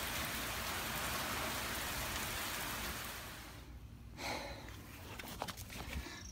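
Steady rain falling outdoors, a dense, even hiss of drops that dies down partway through, leaving scattered patters and faint movement sounds.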